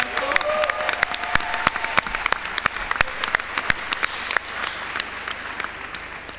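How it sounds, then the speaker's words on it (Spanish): Audience at a national social work congress claps for several seconds, a dense patter of hands with a few loud individual claps standing out, steady then tapering slightly toward the end. "Nos merecemos un aplauso."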